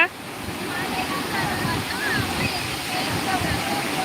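Courtallam waterfall in heavy flow, a steady broadband rush of falling water that stays constant throughout, with people talking faintly over it.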